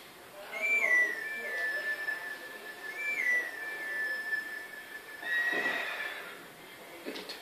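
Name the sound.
whistling a melody on a grass plant for horse Epona, Zelda Twilight Princess video game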